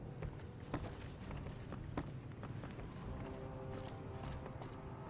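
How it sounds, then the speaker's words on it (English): Footsteps come up a ramp in the video game Fallout New Vegas, a faint, fairly quick series of soft steps over a steady low background hum, with no speech. "Heard your footsteps coming up the ramp."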